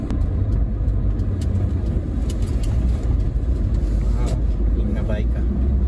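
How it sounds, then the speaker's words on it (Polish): A car passing on a nearby road, a steady low rumble that swells slightly and fades, with a person speaking over it. "Jedzie akurat samochód, to poczekam,"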